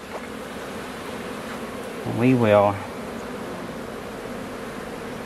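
Honey bees hum steadily in an open hive during a beekeeping inspection, a continuous close buzz under the whole stretch, with a brief spoken phrase in the middle.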